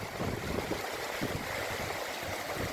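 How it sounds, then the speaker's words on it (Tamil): Small glacial meltwater river flowing fast near its outlet to the Pacific, a steady, close, broadband rushing and gurgling of water that stays loud and even throughout, with no voices over it. "மேலே உள்ள ஐஸ் மலையெல்லாம் உருகி அப்படியே இந்த தண்ணி வருது"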